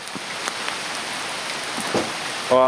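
Steady rain falls outdoors during a ride in the rain, a dense even hiss of drops at close range throughout, with a brief tonal chirp near the end.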